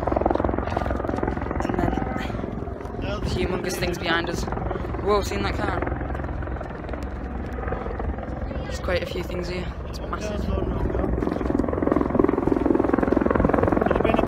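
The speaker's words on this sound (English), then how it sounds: "There's a helicopter up there." A helicopter drones steadily overhead at an outdoor concert during the Bahrain Grand Prix, a constant low chopping hum under people talking nearby.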